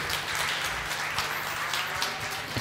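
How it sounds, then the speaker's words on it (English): An audience applauds at the close of a tech career talk, dense, even clapping filling the room from start to finish with no voices over it. "A round of applause"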